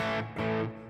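Distorted electric guitar through a GTX 100 set to a short delay: two quick strummed chords, the second following closely after a brief dip, each trailed by tight echoing repeats, loud and alone.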